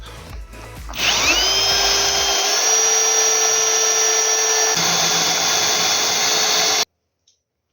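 A power drill spins up and whines steadily at a high pitch, its tone shifting as the oiled bit bites through a metal stair frame, then cuts off abruptly.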